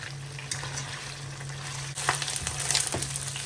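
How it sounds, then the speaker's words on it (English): Peppered gizzards sauté in hot oil, giving a steady close sizzle that grows louder and more broken partway through as the pieces are stirred. "go ahead and saute it until they're nice and caramelized"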